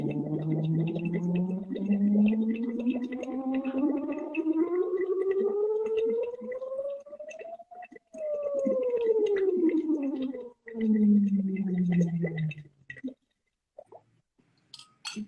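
A steady stream of bubbling from air blown through a drinking straw into water, done as a voice exercise, with the voiced tone gliding up, then down, then up again in long continuous sweeps before stopping.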